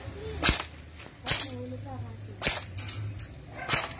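Four sharp single shots from a Daniel Defense rifle fired in single-fire mode, spaced about a second apart, each a loud crack with a short tail, while someone talks quietly between them.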